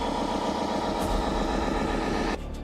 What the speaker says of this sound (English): Driving, engine.